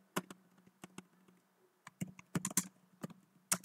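Typing on a computer keyboard while working in SQL Server: irregular bursts of sharp, close key clicks and taps, some rapid clusters and short pauses, fairly quiet with no talking over it.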